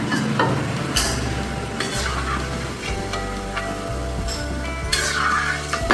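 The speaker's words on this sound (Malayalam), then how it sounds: "തേങ്ങ വറുത്ത് കോരിയിട്ടുണ്ട്" Coconut pieces fry in hot ghee in an uruli pan while kappa payasam is prepared. A close, steady sizzle runs beneath repeated scraping and stirring of a spoon against the metal pan.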